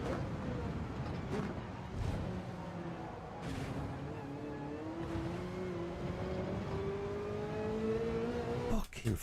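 Race car engine in Gran Turismo 7 during a time trial, a steady rising drone as the car accelerates through the gears, fairly faint and continuous, with brief bumps near the end.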